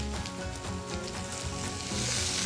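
Meat, potatoes and onions fry in a pan for a breakfast dish, giving a loud, steady, close sizzle that rises slightly near the end, with no talk.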